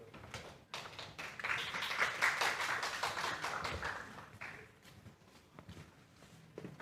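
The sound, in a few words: audience applause welcoming a speaker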